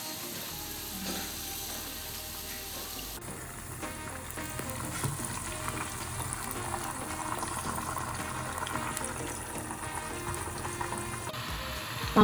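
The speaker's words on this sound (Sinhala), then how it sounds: "මම වම්බට බෙදපු තෙල් ටිකේම අලු කෙහෙල් ටිකක් බෙදගත්තා" Ash plantain pieces frying in the oil left over from frying brinjal for Sri Lankan lamprais, a steady close sizzle and crackle throughout that grows denser and louder after the first few seconds.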